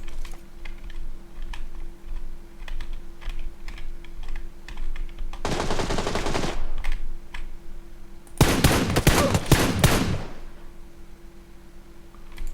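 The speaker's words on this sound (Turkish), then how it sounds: "Kim sıkıyor lan bana?" Gunfire in the battle royale game PUBG Lite comes in two loud bursts of shots, one short and a longer one later, over a steady ticking of keyboard typing.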